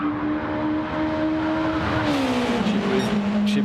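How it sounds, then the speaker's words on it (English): Race car engines drone steadily in the racing video game Flatout at Le Mans, with a pitch that slides downward as the car brakes, accompanied by faint tire squeal throughout. "You can hear the tires screeching."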